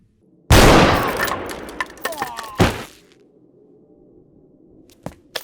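Gunfire from the Hindi film Sholay starts with a sudden loud volley of rapid cracking shots, then a second heavy blast. After a quieter gap, one more sharp shot and a fainter crack follow.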